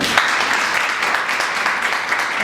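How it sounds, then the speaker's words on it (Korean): Steady applause from a crowd, dense and continuous clapping throughout with no pauses. "박수 한번 주세요"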